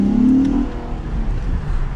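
A car with Ktuner V2 tuning and a Takeda intake filter revs under throttle, a brief loud engine swell that rises in pitch and then settles into a rumbling drone, heard up close and alone.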